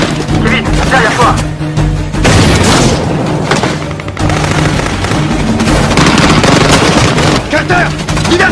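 A grenade blast in a French-language action film: loud, booming explosions amid a dense barrage of rapid gunfire, with shouted voices mixed in throughout.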